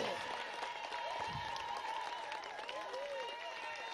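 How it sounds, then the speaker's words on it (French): A church anniversary audience applauding loudly, a continuous dense patter of clapping with cheering voices mixed in and a few shouts rising over it, steady for the whole stretch. "Acclamez très fort."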